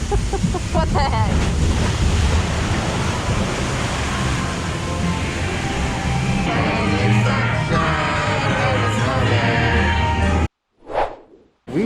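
Log flume ride at Magic Kingdom's Splash Mountain, with loud rushing water and splashing close by, a steady whooshing roar that ends abruptly before a brief burst near the finish.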